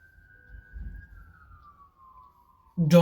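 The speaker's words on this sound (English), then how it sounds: "I don't know if you hear the siren." An emergency vehicle siren sounds as a long, steady tone that slowly falls in pitch, with faint low rumbling beneath it. A loud burst of noise cuts in at the very end.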